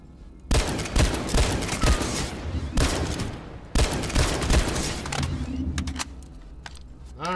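Battle rifle fire in the video game PlanetSide 2, loud rapid bursts of shots in several strings separated by short gaps, with mechanical clatter as the shooting tapers off.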